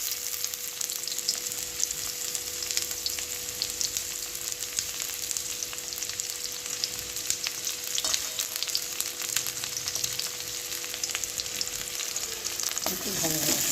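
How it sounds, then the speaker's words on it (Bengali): Chopped onion frying in oil in a wok while being stirred, a steady dense sizzle with scraping stir strokes throughout, close and fairly loud, with no speech. "পেঁয়াজ কুচি দিলাম"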